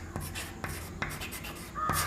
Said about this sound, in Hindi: यानी यहाँ लिखेंगे दोनों